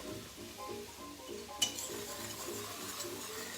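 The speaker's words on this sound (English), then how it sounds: "You need to keep whisking it." A whisk works flour into an equal measure of hot oil for a gumbo roux, giving a steady rhythmic scrape and swish in the pot, with one sharp metallic clink partway through.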